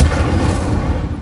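Incendio fire spell blasts from Hogwarts Legacy, a dense, loud, rumbling burst of booming low-end noise with no voices.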